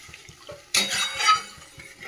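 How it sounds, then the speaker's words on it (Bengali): Water poured from a bowl of rice water into a simmering fish curry in a home kitchen, a sudden close splash and gush lasting about a second, over faint steady bubbling taps. "ভাতের জল বসিয়েছিলাম, এখানে দিয়ে বাটি করে তুলে জল দিয়ে দেবো"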